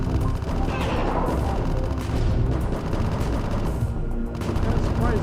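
Sustained machine gun fire and booming blasts in the Metroid 2 remake AM2R form a dense, unbroken barrage at steady loudness, with no talking.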